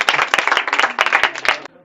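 A school audience at a session on vegetarianism and the environment gives a short burst of clapping, with dense overlapping claps that stop abruptly.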